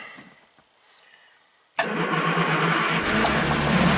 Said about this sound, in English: I love it. It just fires right up.